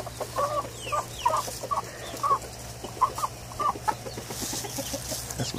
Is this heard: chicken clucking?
yes